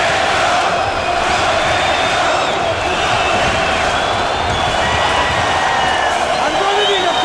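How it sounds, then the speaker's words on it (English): A dense arena crowd roars and cheers steadily throughout an MMA bout in Calgary, rallying behind a hometown fighter, with commentators talking over the noise. "This Calgary crowd cheering on Calgary's Nick Ring."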